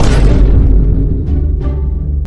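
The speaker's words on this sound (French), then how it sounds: "Non gamin, la bombe a explosé après" A bomb explosion sound effect: a loud, deep boom that opens the clip and rumbles on with a heavy low-end tail, with a few fainter crackling bursts later.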